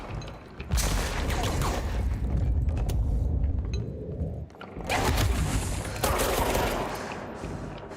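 Gunfire in the Control video game comes as loud, dense bursts of rapid shots at close range, broken by brief lulls with combat sounds in between.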